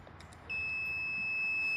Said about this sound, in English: Whenever the circuit completes, it beeps.